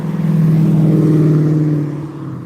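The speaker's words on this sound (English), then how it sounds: "the only muscle cars I've seen out here are Mustangs. That's like the third one that's went by. It's loud as hell." A loud Mustang muscle car drives past. Its engine gives a deep, steady rumble that holds for about two seconds and then fades a little as it moves away.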